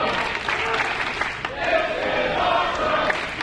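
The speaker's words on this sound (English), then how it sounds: "Listen to this crowd, Steve." A crowd cheers loudly at a wrestling show after a superplex, a continuous roar of voices with swelling shouts that builds toward the end.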